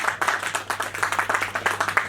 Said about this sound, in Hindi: तालियां एक बार जोर से।